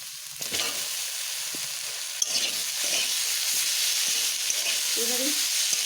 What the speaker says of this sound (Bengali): আমার এই কাঁঠালের বীজ ও আলুগুলো হালকা ভাজা হতে আমি এখানে থোড়গুলোকে দিয়ে দেব।